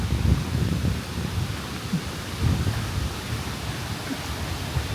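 Rain and gusty wind roar steadily outdoors near a fountain at night, a dense, loud wash of noise with low rumbling buffets throughout.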